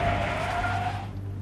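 A car in a TV show skids with a squealing tire tone and engine rumble, loud and close, then fades off.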